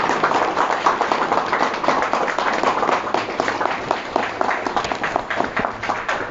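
A seated audience at an LED bulb business training session breaks into sustained, dense clapping that holds steady and fairly loud throughout, with no one speaking over it.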